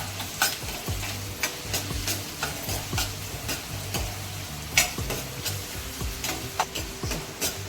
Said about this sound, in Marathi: त्यानंतर आलं लसूणची पेस्ट आपल्याला चांगलं आता परतून घ्यायचं